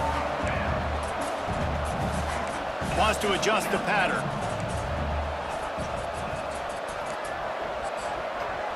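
Stadium crowd in a college football video game, Purdue versus Minnesota, holds a steady, fairly muted roar through the whole stretch beneath an announcer's play-by-play commentary.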